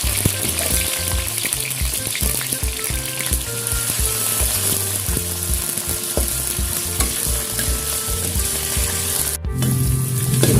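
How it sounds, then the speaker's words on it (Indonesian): Jengkol beans fry in hot oil with a loud, continuous sizzle up close, while rhythmic stirring clatters and knocks run through it, with no speech. "Setelah minyak panas, masukkan jengkol yang sudah dicuci tadi."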